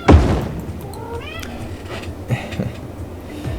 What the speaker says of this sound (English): Yes, I think there are cats in my city.